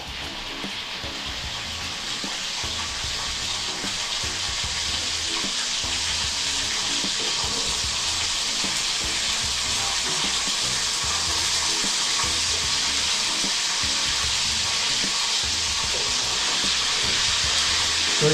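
Mackerel tuna pieces fry in hot oil in a pan, a loud, steady, dense sizzle and crackle that carries on without a break and close by, with no talking.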